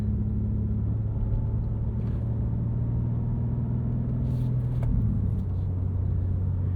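A 2023 BMW M2 with a six-speed manual cruises gently through a neighborhood: a low, steady engine hum and cabin rumble, even and unhurried, with a faint tick or two partway through.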